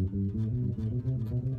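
An electric bass plays a quick stepwise run of notes up and down a scale, slightly effected and moderately quiet, with no voices.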